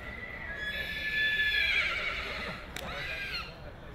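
A racehorse at a sale whinnies loudly in a long, wavering call while being walked, followed by a brief sharp snort; no hoofbeats stand out clearly.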